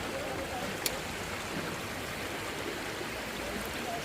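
A flowing stream runs along a cycling route, producing a steady, even rush of water at moderate distance with one brief click, no speech heard.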